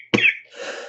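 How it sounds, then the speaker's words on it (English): A single sharp cough from a man, close and abrupt, followed by a brief breathy throat-clearing rasp. "Oh, damn cough."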